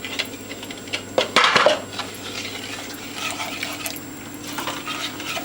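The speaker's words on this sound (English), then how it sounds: "just whisk them up a little bit first. And then stir them in to your melted mixture" Whisking eggs and stirring them into a melted cake mixture for a parsnip cake, with a burst of clinking utensil-on-bowl sounds near the start and softer, intermittent scraping and tapping throughout.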